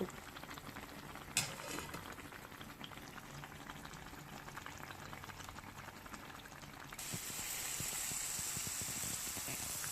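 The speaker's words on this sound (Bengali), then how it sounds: "তারপর আবার উল্টিয়ে দিতে হবে আরেক পিঠ ভাজার জন্য" Sweet pitha cakes fry in hot oil, giving a steady bubbling sizzle throughout, with one sharp clink early on and the frying growing a little brighter and louder toward the end.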